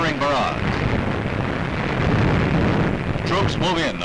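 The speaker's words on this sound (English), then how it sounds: "500 warships lay down a withering barrage" Hundreds of warships lay down a naval artillery barrage in an archive wartime newsreel. A heavy, continuous rumbling roar of distant gunfire and blasts runs throughout, with harsh, crackly, wind-like texture.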